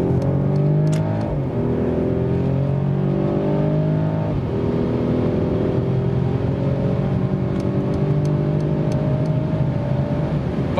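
A 2021 Mercedes E-Class Convertible engine revs up loudly and repeatedly as it accelerates in sport mode, pitch climbing through several gear changes up to 180 km/h, heard from close inside the vehicle.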